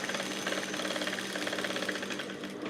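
A sewing machine stitches a blouse with a fast, even mechanical whir and rapid needle rattle, close and steady for a few seconds with no speech.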